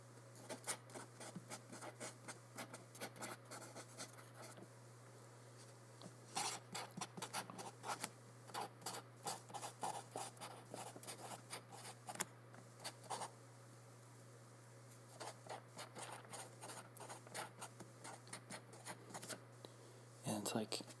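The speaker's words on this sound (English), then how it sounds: "depending on the way that you're holding the pen, it gives a different sound" A pen scratching across paper in bursts of strokes with brief pauses, close and quiet, during a short-story writing session; a steady low hum runs underneath throughout.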